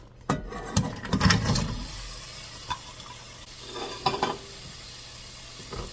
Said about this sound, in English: Okay, so I'm going to add the onions.